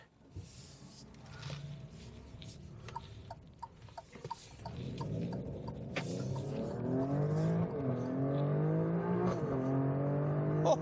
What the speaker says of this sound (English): It's got all of that throatiness that you expect from the Quadrifoglio engine.